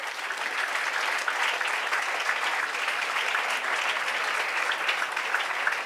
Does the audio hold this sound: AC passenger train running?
no